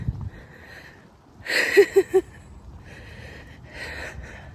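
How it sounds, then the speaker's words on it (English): Heavy breathing close by, with a few loud rasping breaths in quick succession, then softer panting exhales. "breathing heavy"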